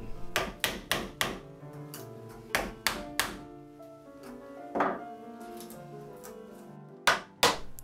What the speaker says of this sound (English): I can start chiseling a little harder.